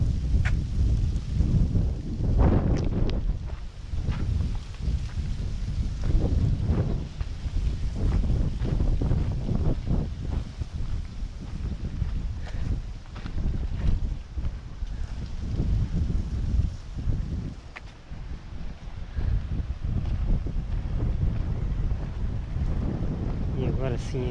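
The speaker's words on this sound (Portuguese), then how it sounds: "Ok, está um bocadinho de vento." Wind gusts buffet the microphone at Baía de Fajã d'Água in Cape Verde, a steady loud rumble with rushing surges throughout.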